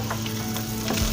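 A flipped egg frying in hot oil, a close, dense crackling sizzle with small pops, steady and unbroken over a short moment.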